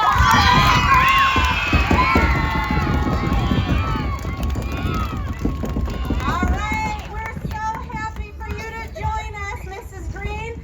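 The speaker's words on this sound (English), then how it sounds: "Let's give it a big round of applause!" A crowd of elementary school students at a race day cheers and shouts loudly and continuously, with many overlapping voices and excited calls filling the whole stretch.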